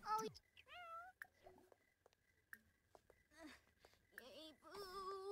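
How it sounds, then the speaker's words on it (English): A cat in a life-simulation video game meows several times at varied pitches, close and clear, with short pauses and faint game sounds between calls. "We're gonna pet and love this kitty."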